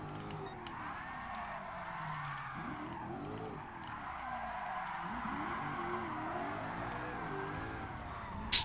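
A stock RC F drifting in Gran Turismo Sport gives a continuous tire squeal that swoops and wavers in pitch, layered over a steady engine drone throughout.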